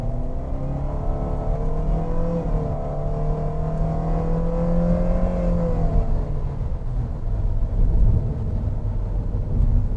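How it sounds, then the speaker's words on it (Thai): A Toyota Veloz MPV engine in power mode whirs and climbs steadily in pitch under full-throttle acceleration, heard from inside the car, then drops back as the revs ease. "แล้วลองเหยียบคันเร่งเต็มที่นะครับ"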